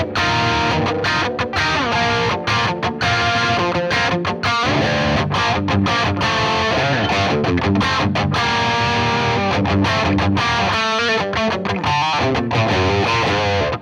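A heavily distorted electric guitar plays loud, dense chords and riffs through an amp, with no talking.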